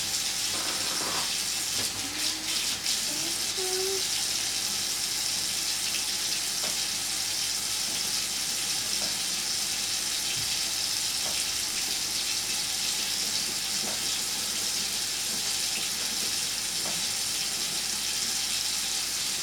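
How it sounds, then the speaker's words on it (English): A spatula is rinsed under a running kitchen tap, giving a steady, even hiss of flowing water with faint clinks and small splashes over a long stretch. "Now, in the meanwhile, wash off your spatula."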